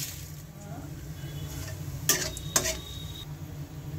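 Bay leaf, dried chilli and panch phoron temper in hot oil for a Bengali mixed-vegetable puishak dish, a low, even sizzle with two bright metallic clinks of a utensil against the pan midway; no one speaks.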